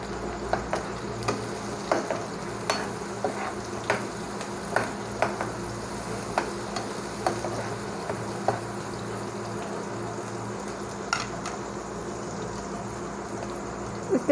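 Green chili and ginger stir-fried in a pan for a chicken vegetable rice noodle dish: a steady soft sizzle under regular light scraping ticks from stirring, with no voices.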